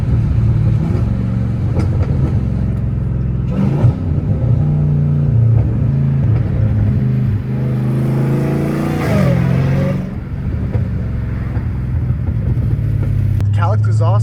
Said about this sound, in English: Catless exhaust I have on this, I think it's blown up low-key